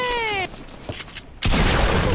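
Gunfire in a video game tournament: a tonal sweeping effect, a few quiet thuds, then a sudden loud burst of shooting that continues to the end.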